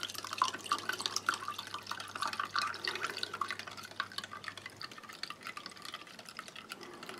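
Cold water runs steadily into a glass, a continuous splashing pour that softens slightly toward the end.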